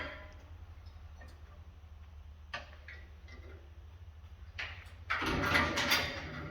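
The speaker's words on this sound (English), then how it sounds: "This door is making a lot of noise because I've got all the keys hanging here." A kennel safety door on a canine transport unit rattles with a bunch of hanging keys, a steady low rumble broken by sharp clanks near 2.5 seconds and a louder metallic burst near the end.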